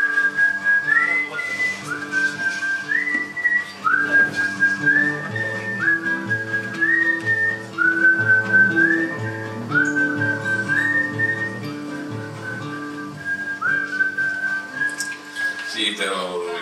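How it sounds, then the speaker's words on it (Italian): A man whistles a melodic tune at a live concert in a café, clear and continuous over soft instrumental accompaniment. "Lui fischietta come facciamo tutti al buio quando facciamo finta di non aver paura"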